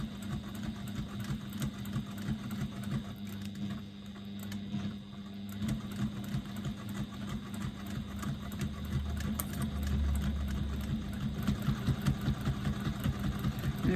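A sewing machine runs steadily, stitching through a foam-lined bag with several layers, a continuous mechanical whirr and rattle at moderate, fairly even loudness.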